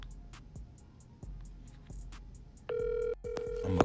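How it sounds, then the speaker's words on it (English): A mobile phone places a call on speaker, first giving a few soft clicks and then an electronic ringback tone that sounds twice, close and clear. "Calling Roosevelt. Mobile on speaker"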